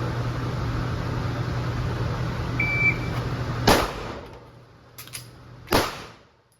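PSA Micro Dagger pistol fired during a reload drill: one sharp shot, a pause for the reload, then more sharp shots, loud and close over steady outdoor noise, with no talking.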